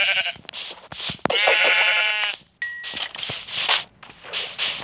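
Sheep bleating in Minecraft Pocket Edition, a few wavering game bleats with clanging ding effects mixed in, loud and close with no talk over it.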